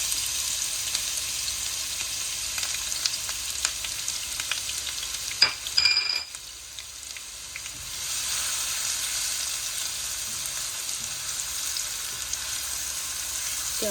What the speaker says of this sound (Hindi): प्याज को अच्छी तरह फ्राई कर लेते हैं।